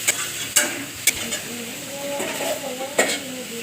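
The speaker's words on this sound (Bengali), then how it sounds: "গিমা শাক ভাজা হচ্ছে" Gima greens fry with eggplant and potato in a pan, a steady sizzle with a few sharp spoon-and-pan clacks from stirring, close and moderately loud.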